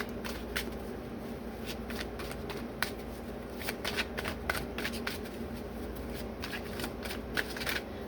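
Tarot cards are shuffled up close, a steady run of soft riffling and flicking with sharp snaps scattered throughout over a quiet background.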